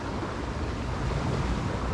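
Steady wind gusts across an open bay, mixed with a soft continuous wash of surf from the shore. No voices.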